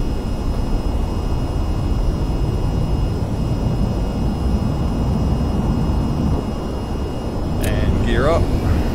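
Steady loud jet engine roar as the throttle is pushed up in the flight game VTOL VR, a continuous broad rumble with a short dip and a brief tonal chirp near the end.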